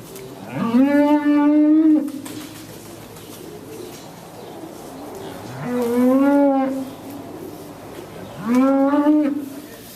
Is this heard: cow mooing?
yes